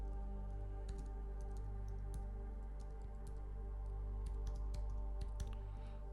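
Typing on a computer keyboard: scattered quick key clicks in uneven bursts, faint and close, over a steady low electrical hum with no talking.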